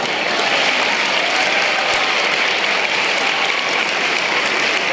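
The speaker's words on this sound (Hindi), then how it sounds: "वाह, इस बात को फिर से ताली।" An audience at a student gathering applauds, dense sustained clapping from many hands at a steady loud level throughout, with no speech over it.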